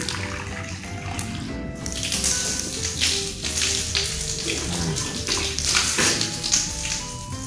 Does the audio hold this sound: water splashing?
yes